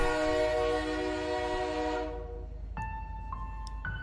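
A train pulls out of a station with a sustained loud horn-like tone that cuts off after about two seconds, followed by short electronic chime tones over a low rumble.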